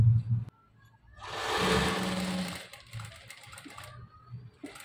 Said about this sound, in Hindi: अब हमने इधर से सिलाई करनी स्टार्ट करनी है